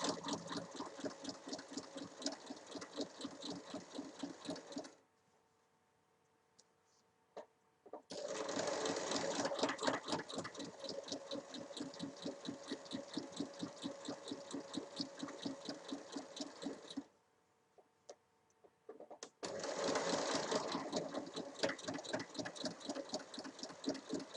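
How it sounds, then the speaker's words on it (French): A sewing machine stitches a seam on a square fabric bag, running in a fast steady mechanical hum of rapid needle strokes for several seconds, stopping briefly, then starting again twice. "assembler sur toute la longueur en commençant au pli qui est à 1 cm"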